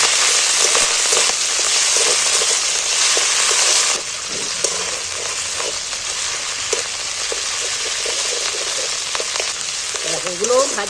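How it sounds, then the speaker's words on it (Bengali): Ginger and green chilli paste fries in hot oil for a potato curry, giving a loud, bright sizzle for the first few seconds, then a softer, crackling fry with the scrape and clatter of stirring. "এগুলো ভাজা হয়ে গেছে, তেল ছেড়ে দিয়েছে।"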